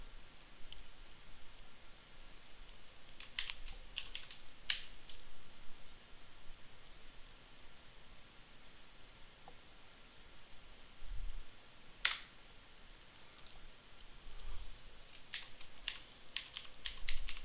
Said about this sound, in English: a little typing.